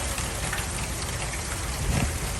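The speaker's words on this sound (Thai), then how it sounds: "สงสัยจะเป็นฝนตก" Rain falls steadily in a rural Thai setting, a dense, even patter on surfaces that is loud and continuous throughout, with no voices.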